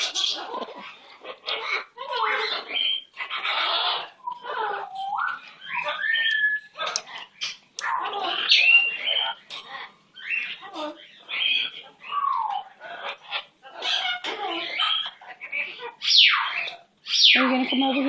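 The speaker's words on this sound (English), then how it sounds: "I want to pet my pretty bird." A pet bird vocalizing up close with frequent whistles, rising and falling chirps and squawks, mixed with voice-like babble.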